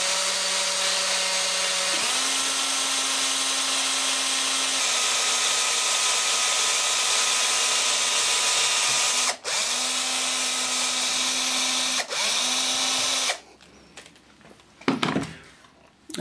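A small bit in an electric drill bores through metal under firm pressure, giving a long, steady high whine that shifts pitch a few times and briefly dips, then stops and gives way to clattering handling noise.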